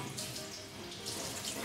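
Tap water runs steadily over a shoe being rinsed in a sink, a continuous close splashing hiss with no talking.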